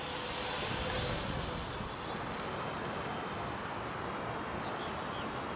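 A DEERC D10 foldable budget drone flies outdoors. Its steady, airy whirring hum with a thin high whine carries on continuously at moderate loudness, without speech.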